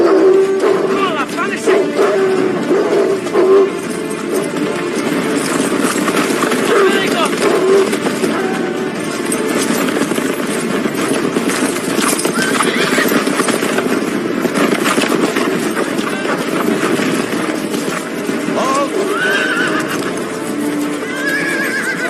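Horses gathered with hounds for a hunt snort and whinny amid hoof clatter and movement, loud and continuous, with people talking over the commotion.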